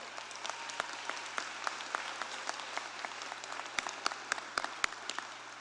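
A university convocation audience at Roger Williams University applauds the student speakers with steady, moderately distant clapping and a few sharper nearby claps standing out toward the end.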